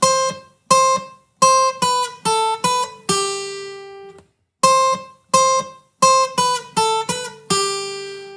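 The Office theme melody picked on guitar as single plucked notes, each cut short by muting, in two matching phrases of quick notes ending on a longer held tone, clear and alone.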